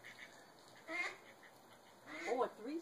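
Two short bursts of raspy duck quacking, faint and a little distant, against a quiet background.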